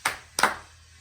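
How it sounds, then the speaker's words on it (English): Hands clap a rhythm during a music lesson, two sharp, close claps about a third of a second apart in an otherwise quiet room. "So let's clap this rhythm at D."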